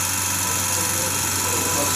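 A KPT vacuum pump runs steadily while drawing kerosene in for cleaning, giving a continuous mechanical hum and whine with a low droning undertone, close and unbroken for the whole two seconds.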